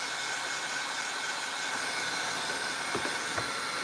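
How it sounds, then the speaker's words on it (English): A hair dryer blows a steady, loud whooshing hiss over painted air-dry clay, with a couple of faint knocks near the end and no voices. "Of course, always keep your dryer moving"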